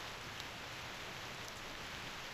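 Rain falls steadily in the Reverse: 1999 video game, a faint, even hiss of many drops with no breaks and no voices.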